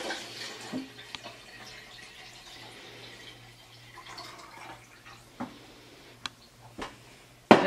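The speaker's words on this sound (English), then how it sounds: "I'm going to pour this into my jug." Filtered water from an Aquasana filtration jar is poured into a jug, a quiet trickle with scattered drips and a few sharp clinks, fairly faint and close, with no talking.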